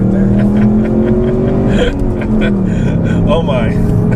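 A 2015 Ford Mustang EcoBoost with its turbocharged engine pulls hard under acceleration, a loud steady engine note climbing in pitch from inside the cabin while a person talks over it.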